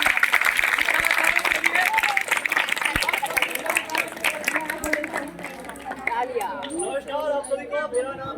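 An audience at a theatre festival breaks into dense, loud applause after a play. The clapping fades after several seconds, and voices and other stage sounds follow.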